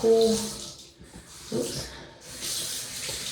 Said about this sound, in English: Let me put some cool water on.